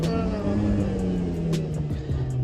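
A stuck car high in Leh-Ladakh strains its engine in a continuous loud revving drone while people push it from behind, the pitch sagging slightly and rising again, with faint voices in the background.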